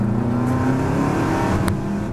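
A Subaru accelerating hard out of a corner on a driving circuit at Dreux, its engine note steady and loud from onboard, with a brief higher transient near the end.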